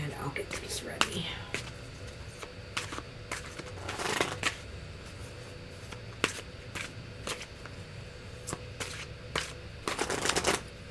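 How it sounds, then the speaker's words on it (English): Tarot cards are shuffled by hand in quick, crisp riffling bursts and soft slaps, repeated many times at close range in a quiet room. "shuffle Mr. O and cut."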